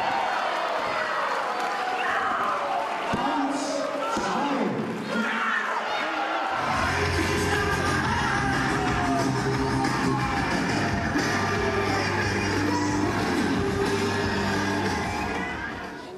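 Audience at a KAIF wrestling show in Trofaiach cheering and roaring continuously, a dense crowd din with thuds from the ring, while a voice talks over it.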